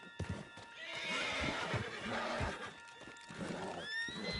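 A horse in the video game Red Dead Redemption 2 whinnies loudly and long, with hooves clopping underneath and a faint background hum.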